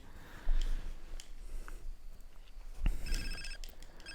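In GTA San Andreas, a phone rings in a short burst of repeated bright electronic tones near the end, following game noise and bumps, with no talking.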